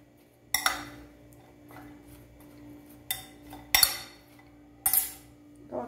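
Sweet potato chips are tossed with olive oil and seasoning in a bowl, heard as a few separate bursts of clinking and scraping utensil against dish with quiet gaps between them.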